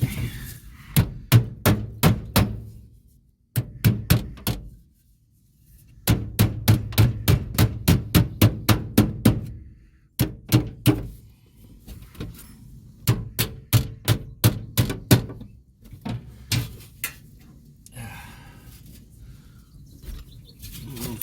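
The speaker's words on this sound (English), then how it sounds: "Let me take a hammer here." Metal hammering on a 1977 Chevy C10 pickup's rocker panels in rapid runs of sharp ringing strikes, close and loud, with short pauses between bursts.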